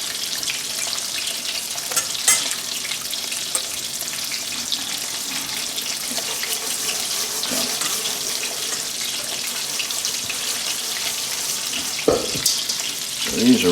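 Breaded chicken cutlets, coated in egg, flour and breadcrumbs for chicken parmesan, fry in a home-kitchen pan with a steady broad sizzle, broken by sharp clatters near the start and toward the end.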